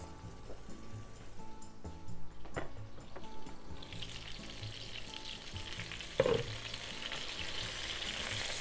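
Pork-wrapped onion teriyaki fries in a covered pan with a steady sizzle that swells louder partway through, a brief clatter near the end, close and continuous.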